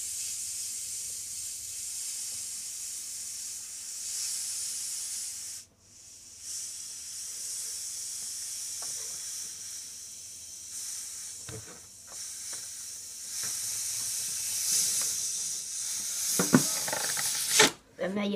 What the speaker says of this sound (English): let a little bit of air out at a time